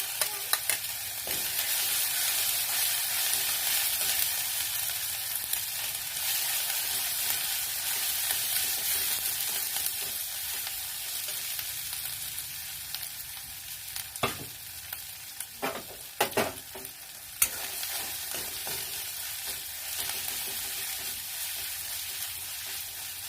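Cashew and melon seed paste fries in a pan for a Bengali katla fish tomato gravy, giving a steady, close sizzle with occasional scraping stirs and clinks, and no talking.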